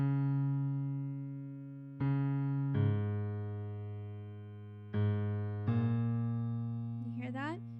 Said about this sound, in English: You could do one long note and one short note like this.